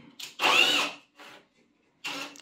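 A power drill drives screws into a wooden sliding cabinet door in short bursts, a close, loud whirring spin that stops and restarts with brief pauses in between.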